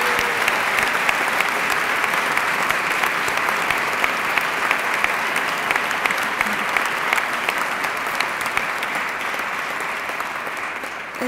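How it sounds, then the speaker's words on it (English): An audience at the 2012 Robert F. Kennedy Human Rights Award Ceremony gives a long, sustained round of applause, a dense and even clatter of many hands that holds steady for the whole stretch. "So could we just give them a big applause, okay?"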